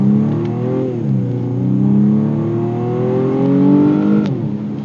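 A BMW M135i engine revs steadily on Michelin Pilot Sport 4S tyres, its pitch rising and falling in smooth sweeps before a sharper blip near the end, close and loud with no talk over it.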